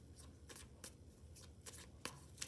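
Cards are shuffled for a tarot-style card reading in quiet, soft riffling bursts repeating at a steady pace, with a few sharper snaps near the end.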